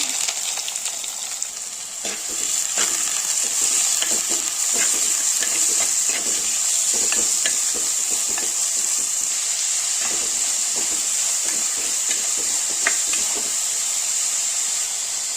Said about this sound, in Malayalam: ഇനി നമുക്കിതിലേക്ക് 3 ഇടത്തരം സവാള അരിഞ്ഞത് നമുക്ക് ചെറുതായിട്ട് കട്ടി കുറച്ച് അരിഞ്ഞത് നമുക്ക് ഇട്ട് കൊടുക്കാം